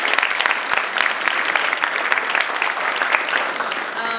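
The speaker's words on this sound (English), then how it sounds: "can we please give Pastor Easley a round of applause for organizing this event?" Audience applause at a community event in Hempstead Village, a dense, steady clapping from a sizable crowd lasting the whole stretch, moderately close and continuous without pause.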